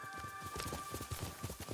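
A companion horse in Ghost of Tsushima runs toward the player, its hooves clip-clopping in a quick, steady rhythm at close range, alone without speech.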